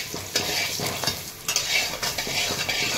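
Amla with salt and turmeric sautéed in a pan, a steady close sizzle with repeated scraping strokes of a spoon stirring through the fruit.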